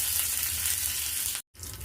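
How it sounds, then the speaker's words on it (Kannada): Mustard seeds, cumin and a green chili sizzle steadily in hot oil for a sambar tempering, a close, even frying hiss that cuts out abruptly for a moment, then resumes. "ಎಣ್ಣೆ ಕಾದಿದೆ, ಒಗ್ಗರಣೆಗೆ ಹಾಕ್ತಾಯಿದ್ದೀನಿ"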